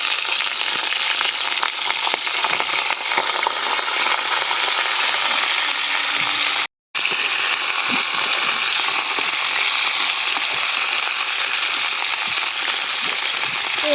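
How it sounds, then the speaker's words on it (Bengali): Cauliflower and potato pieces fry in a hot pan, a loud, steady crackling sizzle lasting throughout, with one very brief break in the middle and no talking. "ফুলকপিটা প্রথমেই ভেজে নেওয়া"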